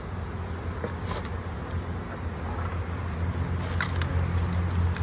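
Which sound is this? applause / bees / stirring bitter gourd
bees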